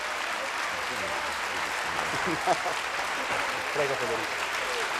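An audience applauds at a lifetime achievement award presentation for Marcello Mastroianni, steady crowd clapping running throughout while someone speaks briefly over it.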